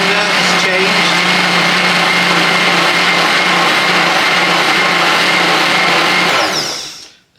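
A blender making a white chocolate mocha frappe whirs loudly and steadily with a high grinding tone for several seconds, then cuts off abruptly near the end.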